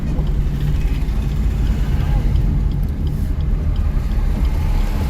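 A car driven slowly in second gear during a driving lesson gives a steady, loud, low engine and road rumble from inside the cabin, while people talk over it.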